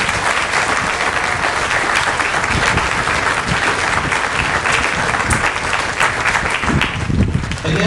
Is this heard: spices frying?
no